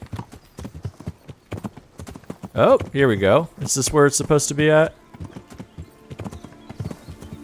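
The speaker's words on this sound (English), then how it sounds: "This is the problem with going through bushes with horses." Horse hooves clip-clop in a steady rhythm of light clicks as a horse is ridden through bushes in a video game, with someone talking over them and a brief horse-like whinny in the middle.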